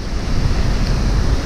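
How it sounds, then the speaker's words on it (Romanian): Strong gale wind with heavy rain buffeting a truck in New Zealand, heard as a loud, dense roar of wind noise and rain, constant and close with no voices. "bate vântul prea tare și le frică că se răstoarnă în remorcă"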